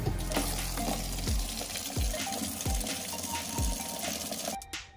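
Water poured into a bucket for an upgraded snake egg incubator setup, a continuous splashing rush with a few low thuds, close and fairly loud, ending abruptly.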